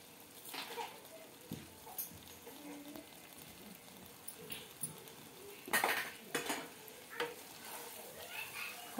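Brinjal curry is stirred in a pan with a spoon, giving intermittent metallic clinks and scrapes over a faint sizzle, with a voice talking in between.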